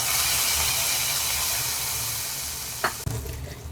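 Steady, bright sizzling of spices tempering in hot oil for tomato rasam, close and continuous, fading slightly before a quick clatter near the end.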